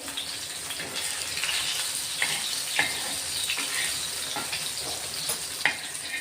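Green chillies sizzle and fry steadily in a hot pan, a continuous crackling hiss with occasional louder pops and spatters, moderately close and with no talking.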